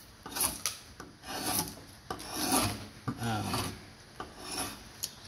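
Timber being scraped from the back of a wooden bow down to a single growth ring, a chattery rasping scraper in repeated close strokes of about half a second each, with no speech.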